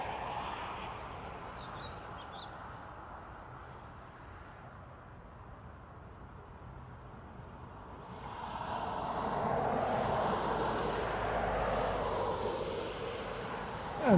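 An SAS airliner lining up for departure at Dublin Airport: a distant jet engine hum swells louder in the second half, with faint bird chirps early on and no speech.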